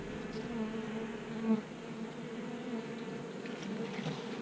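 Honey bees drone in a steady, close, continuous buzz as a hive is opened for inspection, with frames of honey, eggs and brood pulled out; no talking over the sustained hum.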